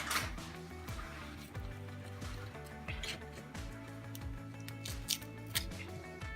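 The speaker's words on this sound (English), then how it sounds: "so I want to cut it to 2 tablespoons." A knife cutting through a stick of butter into tablespoon portions, with repeated soft pressing and crunching strokes and light clicks against the cutting surface, close and quiet, with no talking.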